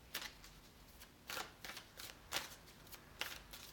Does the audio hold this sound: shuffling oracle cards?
yes